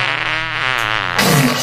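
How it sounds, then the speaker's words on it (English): A loud, buzzing fart rasps out close and continuous, ending in a rougher, noisier burst. "I'm gonna need you to fart directly right in her eye."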